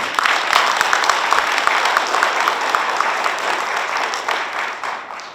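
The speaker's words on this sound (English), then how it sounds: "I think you deserve a large round of applause from the audience." Sustained applause from an audience at a formal reception, a dense even clatter of many hands that fades slightly toward the end.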